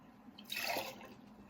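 Water poured from a container into a cup while making a resin stone mold, a brief soft splash and trickle lasting under a second, fairly quiet and close over a faint background hum.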